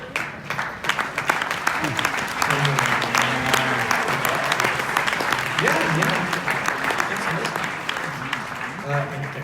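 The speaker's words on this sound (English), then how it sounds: "Round of applause." Sustained audience applause from a live crowd at a business seminar, dense and steady clapping throughout with some voices mixed in and a brief lull near the end.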